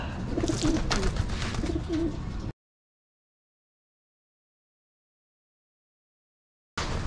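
Young racing pigeons at a loft coo and rustle nearby. The sound cuts to complete silence partway through, then briefly returns at the end.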